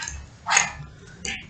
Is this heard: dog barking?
yes